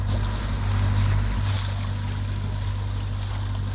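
Sailboat motoring along the rocky coast of Rhodes into a Force 3 headwind, with a steady low engine drone and constant wind and water rush around the hull, no voices.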